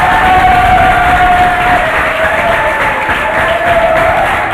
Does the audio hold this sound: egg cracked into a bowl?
no